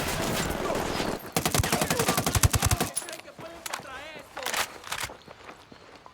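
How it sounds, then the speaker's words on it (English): Rapid automatic gunfire in the video game Ghost Recon Wildlands, dense bursts firing loud and close, then trailing into scattered shots and game effects, with voices heard in the mix. "third-person shooting feels incredibly tight"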